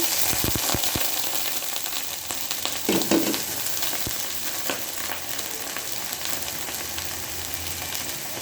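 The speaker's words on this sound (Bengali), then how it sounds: "দিয়ে দিলাম সরিষার তেল দিয়ে দিলাম পেঁয়াজ কুচি" Chopped onion frying in hot mustard oil in a pan, a continuous close sizzle with a few sharp stirring knocks and scrapes early on, no talking.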